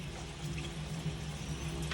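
Tap water runs steadily over squash being washed in a kitchen, a constant soft rushing splash with no pauses, fairly faint and heard alone.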